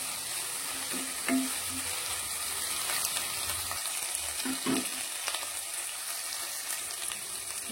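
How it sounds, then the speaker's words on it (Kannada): Ginger garlic paste and other ingredients for egg capsicum gravy frying in a pan: a steady, close sizzle throughout, with occasional clinks and stirring scrapes and no talk. "ಎಲ್ಲವೂ ಚೆನ್ನಾಗಿ ಫ್ರೈ ಮಾಡ್ಕೊಳ್ಳಿ."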